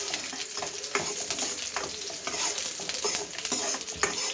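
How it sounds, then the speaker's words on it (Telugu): Onions fry in hot oil after mustard seeds have spluttered, a steady close sizzle for idli upma with scraping stirring strokes and small pops, with no talking. "ఆవాలు చిట్టుపట్టలాడాక ఆనియన్స్ వేసుకోవాలి. ఆనియన్స్ వేసుకొని బాగా కొంచెం వేయించుకోవాలండి."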